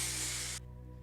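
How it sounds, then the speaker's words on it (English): Aerosol spray can of varnish sprayed onto an oil painting canvas from about 40 cm, a loud continuous hiss that cuts off abruptly about halfway, leaving quiet room tone. "Spray the varnish from around 40 cm distance from the canvas in even applications."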